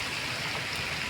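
Heavy rain falls hard in a brief, unbroken wash of close, even hiss, with no one speaking.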